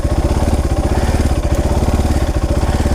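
A dirt bike engine with a worn, touchy clutch runs with the clutch lever pulled in, giving a rapid, even, close-up putter that stays steady and loud without any voices.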